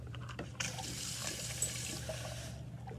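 Water pours from a tap or container into a vessel, a steady splashing stream lasting about two seconds at moderate closeness, with a few faint clinks before it starts.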